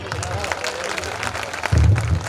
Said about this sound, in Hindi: जोरदार तालियां भैया बहनों के लिए।